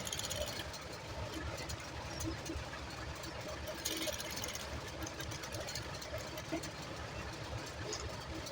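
A sewing machine runs steadily while stitching a neck design on a garment, with a continuous close mechanical whir and rapid needle clatter throughout.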